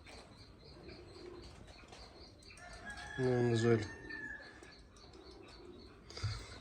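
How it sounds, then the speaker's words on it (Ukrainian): Birds at an animal shelter in Lviv flap their wings and give a loud rooster-like call mid-clip, with another brief call near the end, while people talk quietly nearby. "Дуже гарні птахи, дуже розумні птахи"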